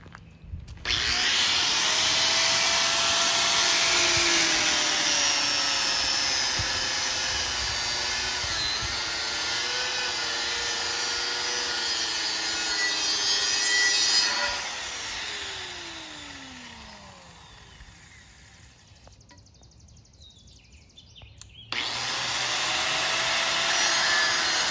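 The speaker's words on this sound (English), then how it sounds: "This is a cutter. I'm going to cut this off first" A handheld power cutter whines steadily, close and loud, as it cuts through something outdoors, its pitch wavering under load before it winds down, pauses briefly and starts again.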